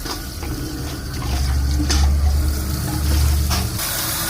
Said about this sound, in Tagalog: Palitan natin ang bagong tubig mga idol.